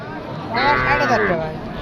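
One cow moos once, fairly close and moderately loud, over a steady murmur of background noise at a cattle market in Sirajganj, Bangladesh.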